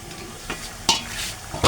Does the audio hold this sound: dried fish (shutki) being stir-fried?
yes